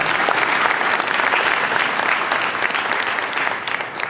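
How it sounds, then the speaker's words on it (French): An audience applauds the authors at a literary prize ceremony, the Prix Edgar Faure, as steady, dense clapping fills the hall for about four seconds without a break. "on peut également les applaudir"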